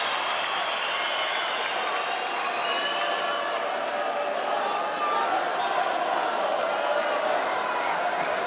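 Boxing arena crowd at the Carl Frampton versus Horacio Garcia fight roaring in a dense continuous wash of cheers and shouts, rising slightly toward the end, heard from within the venue.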